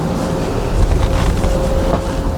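Gusty wind blowing outdoors around a windmill, a loud steady rush that swells in the middle and buffets the microphone, with no talk.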